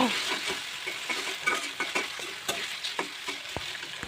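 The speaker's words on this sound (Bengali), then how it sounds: "এখন আমি মশলাগুলো ভালো করে নেড়ে চেড়ে মিশিয়ে নেবো" Ground spice paste of garlic, ginger and onion fries in oil for a broiler chicken curry, a close crackling sizzle cut by rapid, irregular scrapes and taps of a spoon against the pan, with no voice.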